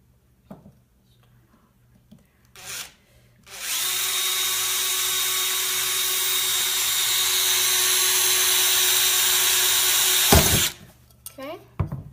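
A power drill runs steadily for about seven seconds, drilling holes in aluminum cans. The whine is loud and continuous, with brief bumps and handling noise before and after it.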